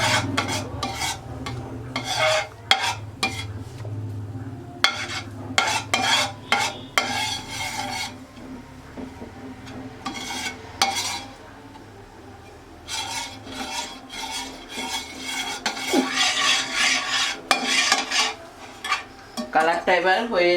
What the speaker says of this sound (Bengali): চিনিটা গলে এসেছে, আর একটু কিছুক্ষণ নাড়তে হবে।